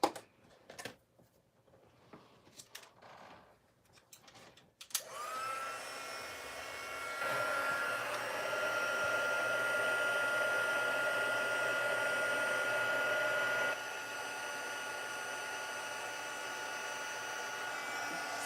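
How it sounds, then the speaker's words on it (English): A heat tool starts up after a few faint taps and rustles, blowing a steady loud whine and hiss as it melts clear embossing powder on a small stamped paper image, holding on for over ten seconds. "We're going to heat emboss that and cut that out."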